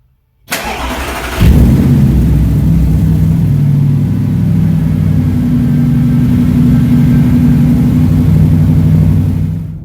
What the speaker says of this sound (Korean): 배기 소리 한번 들어볼까요? 배기 소리가 어떤지.